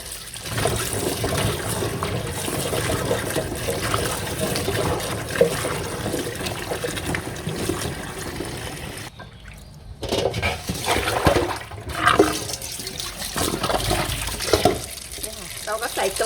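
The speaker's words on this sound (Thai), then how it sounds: "ต้องล้างหลายๆน้ำนะคะ" Longan fruit is washed in several changes of water, with steady close splashing and trickling that runs almost without a break and pauses briefly partway through.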